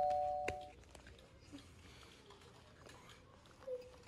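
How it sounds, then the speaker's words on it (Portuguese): A house doorbell rings at the very start, a short two-note chime that fades quickly, followed by faint indoor rustling and shuffling. "Vocês escutaram a campainha tocando?"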